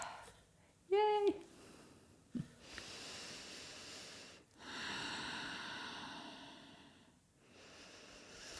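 Slow, audible Ujjayi yoga breathing during a strength and yoga workout, long hissing inhales and exhales repeated a few times, quiet and close, with a brief high squeak early on.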